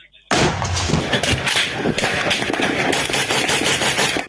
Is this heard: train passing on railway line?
no